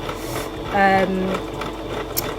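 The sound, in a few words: sewing machine stitching jersey fabric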